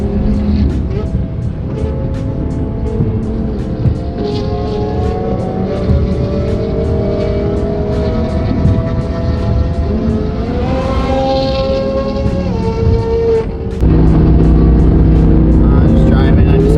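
A 1,300 hp Audi R8 drives steadily, its engine droning and rising through gears with a sharper surge near the end, loud and close throughout.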